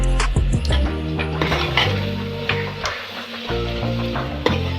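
Chopped capsicum goes into a pan of frying mutton pulao, bringing a close sizzle with metallic clinks and scrapes of a spoon stirring against the pot.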